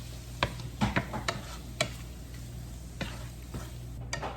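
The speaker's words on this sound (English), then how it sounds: "Garlic powder, paprika, a little bit of Slappy Mama, and we're just going to mix that in" Garlic powder, paprika and Slappy Mama seasoning stirred into meat for a chicken, shrimp and sausage jambalaya, heard as scattered soft scrapes and taps with a faint sizzle beneath, no talking.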